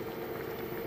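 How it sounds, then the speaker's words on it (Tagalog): Fish stew (salmon paksiw) boiling in an uncovered pot, a steady close bubbling simmer that holds evenly throughout with no talk. "Kumukulo pa rin po siya."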